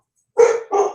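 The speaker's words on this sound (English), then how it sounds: "excuse my dogs." Two sharp barks from pet dogs, close and loud, the second following quickly after the first.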